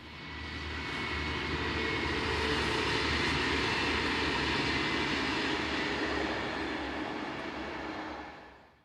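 A pair of Class 612 tilting diesel units passes near Wilspolsried on a Nürnberg to Oberstdorf service, a broad rumbling roar that swells in, holds steady for several seconds, then fades.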